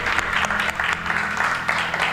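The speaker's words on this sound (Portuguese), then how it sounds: "Você pode aplaudir o Senhor?" Church congregation applauding during a worship service, a dense wash of clapping with a low held tone underneath, steady and moderately loud for a couple of seconds.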